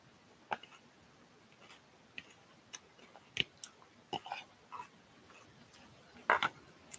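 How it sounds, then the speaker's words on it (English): Someone chews crunchy salad close to the microphone, the sharp crisp bites coming in scattered, irregular bursts against an otherwise quiet background. "ASMR warning. Salad. Very crunchy."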